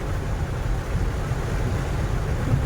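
Strong rushing water roars in a steady, dense wash of noise, close and continuous with no pauses.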